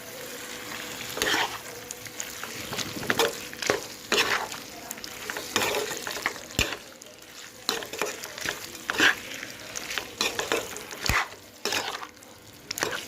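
Goat mutton curry cooked with tea leaves being stirred in a pan. A spoon scrapes and knocks against the pan in irregular strokes over a low, continuous sizzle, close and moderately quiet.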